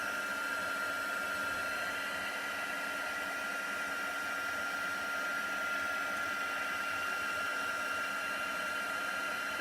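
A heat tool used for embossing a card blows a steady, even whoosh of hot air, close and constant throughout with no breaks and no voices.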